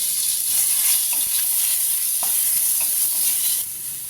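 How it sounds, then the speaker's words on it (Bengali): Mango pieces frying in oil with tempered mustard seeds give a steady, close sizzle with faint scrapes of stirring, continuous for about four seconds and easing slightly at the end. "ফার্স্টে সর্ষে ফোড়ন দিয়েছি দিয়ে আমগুলোকে একটু হালকা করে ভেজে নেব"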